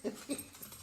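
Prince the dog lets out two short, soft whimpers close by, then a few fainter whiny breaths, with no talking over them.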